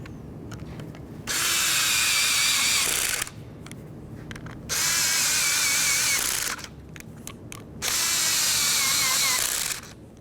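Power tool driving the mounting bolts of a window regulator on a 2004-2015 Nissan Titan, three loud bursts of whirring about two seconds each, separated by short pauses with faint handling noise.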